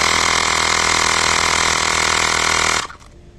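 Steady loud mechanical drone of an electric air pump inflating a Kukirin G2 Master scooter tyre to 3 bar, running continuously then cutting off abruptly near the end, leaving quiet.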